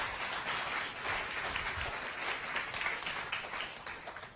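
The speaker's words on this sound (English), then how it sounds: "Give him a round of applause." Steady applause from a crowd, dense and continuous clapping holding at a moderate level for several seconds before tapering slightly.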